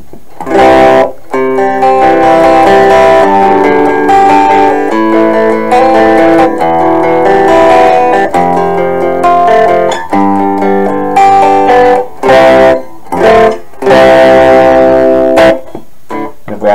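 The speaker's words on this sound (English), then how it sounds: "Here's what that sounds like on the Radio Shack speaker." An instrument is played loud through a small Radio Shack speaker with the level set about halfway, giving sustained notes and chords with a few short breaks, and no talking.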